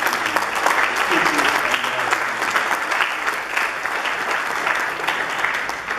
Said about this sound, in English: I want to ask everyone in the room to just give a hearty round of applause to the executive members of the Secondary Schools.